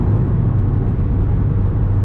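A 2018 Subaru WRX engine holds loud, steady revs during launch control, a dense continuous drone heard from inside the car.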